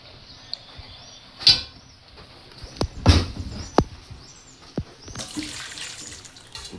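Tap water running at a sink while Kazi guavas from a home garden are washed, a low steady flow broken by several sharp knocks and splashes of fruit and hands in the stream, close by.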